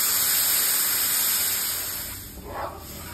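Milk poured into a pan of roasting semolina with ghee and sugar, giving a loud hissing spray-like sizzle that slowly fades, followed by a short bubbling burst near the end.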